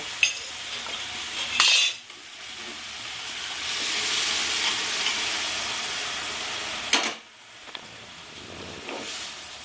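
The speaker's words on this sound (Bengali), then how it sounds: "গ্যাসটা আমার কিন্তু ফুল ফ্লেমে থাকবে এবার আমি পুরো ডালটুকু ঢেলে দেব" Dal hits a hot pan over a full gas flame and sizzles in a broad, steady hiss, broken by a couple of sharp clanks of a utensil against the pan, close and fairly loud, in a Bengali-style potato and okra dish.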